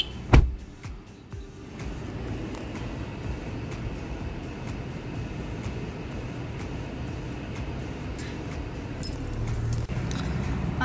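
Car keys jangle in a sharp metallic burst near the start, then a steady rumble of passing traffic and a distant vehicle drone fills the rest, with faint rattles over the background.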